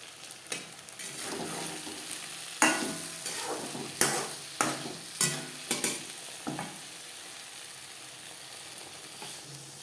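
Spiced okra stirred in a pan with a series of sharp scraping strokes and clinks over a soft sizzle, close and fairly quiet, with no talking.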